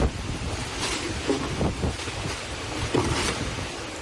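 Heavy overnight rainstorm in Lafayette, Indiana, a dense continuous roar of pouring rain and gusting wind across the whole stretch, loud and steady with no voices.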